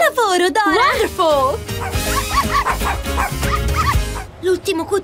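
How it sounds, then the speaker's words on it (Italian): A puppy yips and whimpers in several quick high-pitched bursts near the start and end, set against cartoon music and voices that fill the middle. "Sembrava il verso di un cucciolo!"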